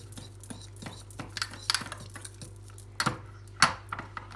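A fork clinks against a dish while mixing baby bird food with warm water. The scraping and tapping is soft and uneven and picks up into louder clicks near the end.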